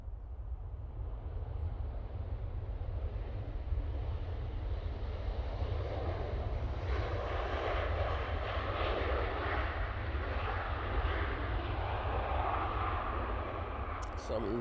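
Ryanair airliner's jet engines roaring at Manchester Airport, a broad sustained rumble that builds and brightens midway as the aircraft passes, heard from a distance and steady to the end.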